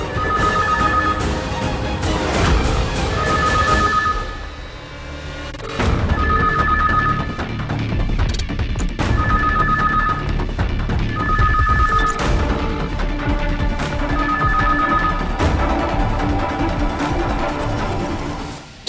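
A telephone bell rings in repeated bursts with short pauses between them, loud and close, with no talking over it.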